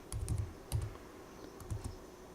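Keystrokes on a computer keyboard during command entry while installing R on Ubuntu, a few quiet clusters of quick taps separated by short pauses, close and alone.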